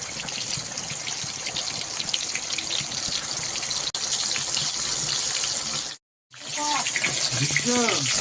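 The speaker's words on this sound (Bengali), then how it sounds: "পটলটা আস্তে আস্তে ছেড়ে দিচ্ছি সব" Pointed gourd pieces slipped into hot oil in a pan fry with a loud, steady sizzling hiss that runs almost continuously, breaking off briefly near the end before resuming, with a faint voice in the background.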